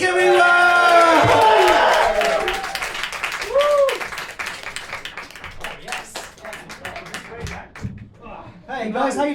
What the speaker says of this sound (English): give a massive round of applause for Jake, everyone!